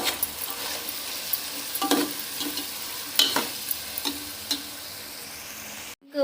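Food frying in a pan over a low, steady sizzle, with occasional spoon scrapes and taps spaced a second or so apart, ending in a brief dropout and a sudden rise.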